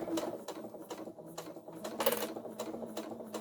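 A sewing machine stitches a zipper onto a sling bag, running in short steady bursts of rapid needle chatter close by, pausing briefly between runs.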